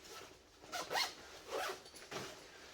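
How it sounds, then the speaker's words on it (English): A 33-liter backpack zipper being pulled in several short, quick strokes, close by and fairly soft, with brief pauses between pulls. "Where's my zipper at? There it is."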